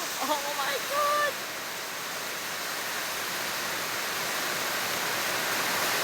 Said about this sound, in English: It's flooding everywhere.